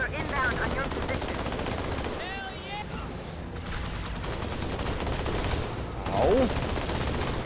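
A Covenant Phantom dropship in the video game Halo fires bursts of plasma fire amid a loud battle, rapid repeated shots over constant combat noise, with whooshing projectiles and brief voices.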